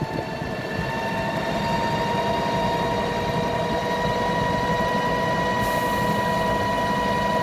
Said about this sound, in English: And that'll actually act as a vacuum pump for the tanker, or it'll just pump it out here